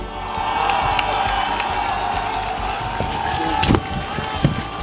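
A political rally crowd in Maniema, Democratic Republic of Congo, cheers and applauds Senator Matata Ponyo Mapon, a steady roar of voices and clapping with a couple of sharper bursts near the end.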